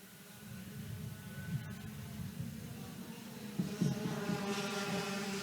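OTK racing karts run on the track at a United States Pro Kart Series final at New Castle. Their engines drone at a moderate distance, rising and falling as they pass, under a commentator's voice.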